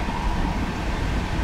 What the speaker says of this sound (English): Let's give it a toot of our horn at this train